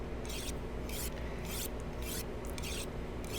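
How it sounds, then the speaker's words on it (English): A makeshift hatchet is sharpened in The Long Dark, heard as repeated rough scraping rasps in short strokes, close and steady, over a constant background hum. "sit here and sharpen up my makeshift hatchet"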